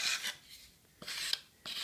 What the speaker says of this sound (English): the other thing about sanding is it's best to sand all over and bring the whole thing down to where you want it all at once